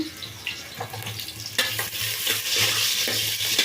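Onions frying in a pan give a continuous close sizzle that swells louder midway, with repeated spatula scrapes and stirs throughout.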